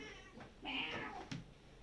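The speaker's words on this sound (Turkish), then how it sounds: "Bu da bizim kedimiz." A pet cat meows once, a drawn-out mid-pitched call in a quiet indoor room, fairly close but soft, with a brief thump near the end.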